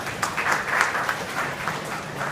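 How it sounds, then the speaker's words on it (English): An audience at a motorcycle event gives a round of applause, moderately loud, steady clapping with a few sharper individual claps standing out. "So a big round of applause for Harley Davidson for making this happen."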